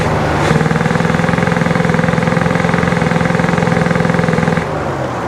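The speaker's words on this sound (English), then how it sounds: "So let's give it some revs again." A 1968 Chevy Caprice engine, warmed up, is held at raised revs with a loud, steady, rapidly pulsing drone that drops back toward idle near the end, close by with no talk.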